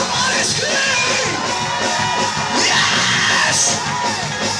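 Church congregation at an anniversary service yelling, whooping and cheering together, a loud, continuous crowd roar with overlapping shouts throughout.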